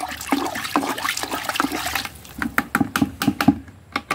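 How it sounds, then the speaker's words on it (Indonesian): Plant growth regulator is poured into a container of water and stirred, producing close splashing and sloshing that turns into choppy, irregular swirling and dripping, with no voices. "ini kita tumpahkan dalam air ZPT-nya, dan juga kita aduk ya, supaya rata."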